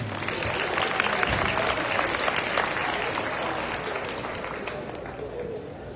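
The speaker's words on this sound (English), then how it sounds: "Let's give another round of applause to all our alumni" An audience at a 2024 high school senior assembly applauds the alumni with dense, sustained clapping and crowd noise that stays strong and slowly eases toward the end.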